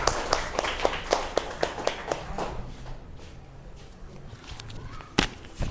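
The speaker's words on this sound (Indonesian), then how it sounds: "kasih aplaus untuk teman yang sudah presentasi" Scattered hand claps from a small group in a classroom after a student presentation, a brief patter of sharp, uneven claps close by that thins out, with no talk over it.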